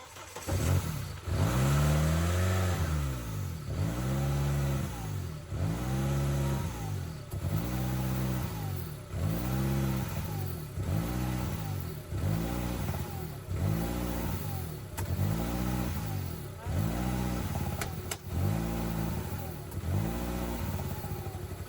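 A Saab 9-5 Aero engine, just refilled with coolant after a radiator replacement, runs close by with a rough, lumpy rhythm, repeating surges roughly every two seconds like a steady misfire, with no talking.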